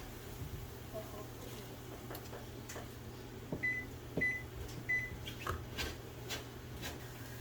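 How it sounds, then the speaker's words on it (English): Kitchen timer beeping three short, clear tones near the stove while bagels boil, heard over a low hum and scattered clatter and bumps. "All right, there's our timer."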